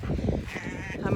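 Sheep bleat near a farm barn, a wavering nasal call mixed with talking voices.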